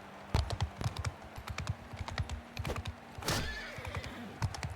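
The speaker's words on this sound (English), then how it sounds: "Just gonna kill his horse here." Horse neighing amid combat in the video game Mount & Blade II Bannerlord, a shrill whinny rising over a steady run of hoof clip-clops and sharp clicks.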